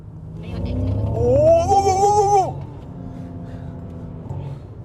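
A Xiaomi SU7 Ultra electric car cruises on the Autobahn with a constant low road rumble from the cabin. A smooth rising whine swells for about a second and then cuts off.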